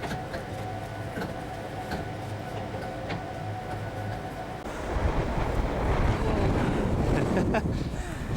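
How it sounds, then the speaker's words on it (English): Wind on Mount Kosciuszko rushes and buffets the microphone, starting low and swelling into a louder, rougher roar partway through, with a faint hum underneath. "It's getting a bit windy."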